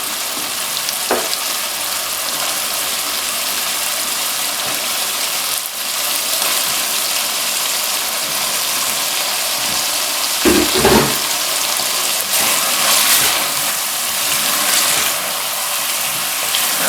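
Potatoes go into a pan of lamb that is stir-frying, giving a steady, moderate sizzle throughout, with a brief louder clattering burst partway through.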